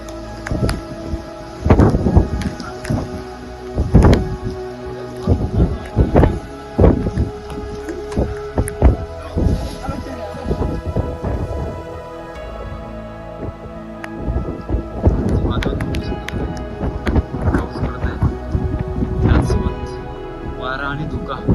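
Heavy rain and rolling thunder during a climb up Raigad fort in strong wind, with loud repeated cracks and rumbles over constant rain noise, close and intense.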